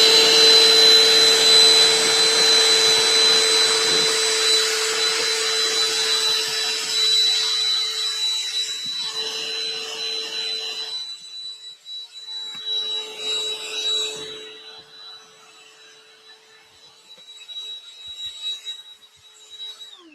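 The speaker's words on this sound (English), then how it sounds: "So let me just vacuum this up and we'll talk about it." Close by, a vacuum cleaner sucks up fabric scraps from quilting strips, its loud whine and rushing airflow running steadily before fading and turning intermittent toward the end.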